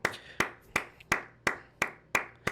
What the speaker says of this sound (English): I just have to clap it up